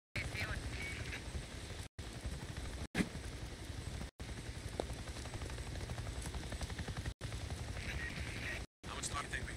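A helicopter in the video game Days Gone thrums steadily under game dialogue and talking, its rotor chop constant across the clip, broken by several brief silent cuts and a sharp pop near the three-second mark.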